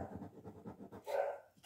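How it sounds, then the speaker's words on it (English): Pet dogs bark in the background of a quiet indoor room, a quick run of soft, muffled barks and yaps followed by one louder yelp. "you can hear my dogs barking in the background"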